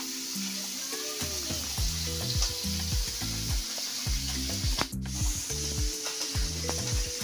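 Fish half-fried in hot oil, with a steady close sizzle and crackle that runs through the whole stretch, alone and with no voices.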